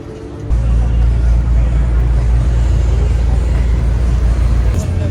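Cars at a track event, sports machines such as a GT3 and an M2, rumble past close by. After a brief quieter start, a heavy, continuous low drone fills the rest of the stretch.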